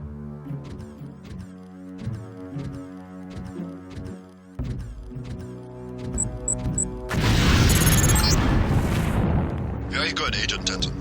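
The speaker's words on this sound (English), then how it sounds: "If you aren't close enough, the lamp will fall to the ground and detonate." In a video game's demolitions training, a lamp falls to the ground and detonates: a sudden loud, broad explosive burst that rolls on for a couple of seconds, preceded by layered game music and effects.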